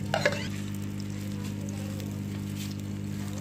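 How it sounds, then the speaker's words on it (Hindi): Mashed potato tikki frying in hot oil on a griddle, a steady close sizzle that continues throughout, with a brief clatter near the start and no talking. "ऑयल हमारा गरम हो चुका है और अब हम इसको आलूओं को इसके ऊपर डाल देंगे और इसकी बना लेंगे टिक्की।"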